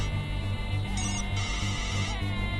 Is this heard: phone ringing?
yes